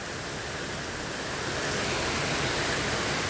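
Heavy storm rain water running and dripping down an outside wall by a window, heard as a dense, steady roar of close, loud wash with no voices.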